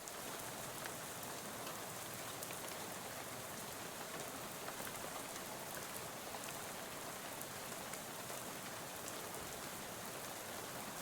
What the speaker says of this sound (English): soon you're dozing off to the sound of the rain spattering on the window beside you